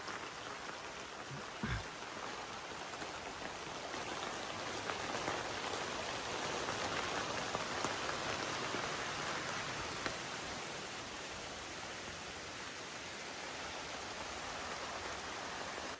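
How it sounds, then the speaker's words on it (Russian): Dense, steady rain pours down in a continuous hiss near a forest hut, with wind rising, a brief thump early on and no voices. "Дождь пошел, начался сильный."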